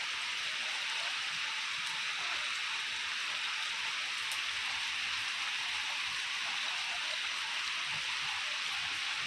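Steady rain pours down in a continuous wash of hiss, close and even, with no voices over it.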